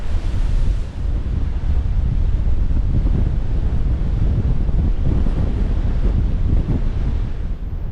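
Force 8 coastal storm at Xghajra, Malta, with strong gusting wind roaring across the microphone over heavy surf and breaking sea waves, loud and continuous throughout with no voices.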